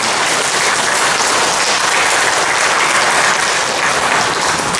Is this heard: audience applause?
yes